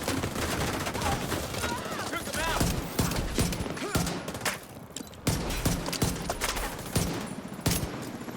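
Gunfire in The Division 2, dense and loud bursts of automatic and rapid shots packed close together nonstop over a busy game soundscape, with a voice speaking now and then.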